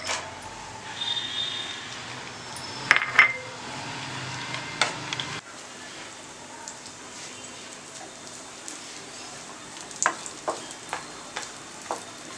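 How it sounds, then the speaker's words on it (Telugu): Cashew pieces and raisins fry in a pan for double ka meetha, a steady close sizzle broken by scattered clicks and scrapes of stirring, with no voices. "జీడిపప్పు ముక్కలు మరియు కిస్మిస్ ఒకదాని తర్వాత ఒకటి కొంచెం దోరగా వేగేటట్టు వేయించుకొని సైడ్కి పెట్టుకుందాం"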